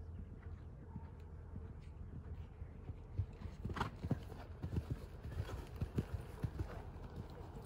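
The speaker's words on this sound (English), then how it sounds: "See how high that horse jumped?" A horse moving over a jump course at a clinic, its hoofbeats thudding in an irregular run of clip-clop strikes that grows louder midway, heard fairly close without talk.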